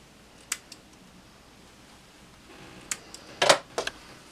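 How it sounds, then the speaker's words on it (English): Scissors snip threads on a freshly sewn fabric face mask, a few sharp isolated clicks at first, then a quick cluster of louder snips near the end, close and otherwise quiet. "Just trim my threads."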